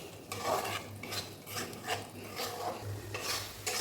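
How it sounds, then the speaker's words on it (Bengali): Small pieces of goat fat sautéed with spices in a pan, heard as soft repeated scraping and stirring strokes with a light sizzle, close but quiet, with no talk. "চর্বিটা একটুখানি ভালো করে কষিয়ে নিই"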